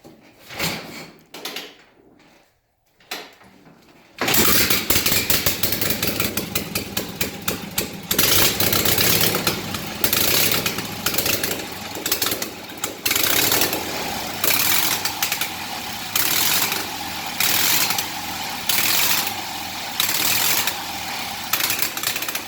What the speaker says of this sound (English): We're going to plug her in, fire in the hole, and we're going to see if we can make it fire.